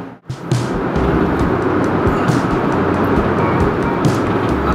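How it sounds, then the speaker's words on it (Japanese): A red two-car train passes close by, a loud continuous rumbling roar that rises abruptly and holds steady throughout, with no voices over it. "赤い電車"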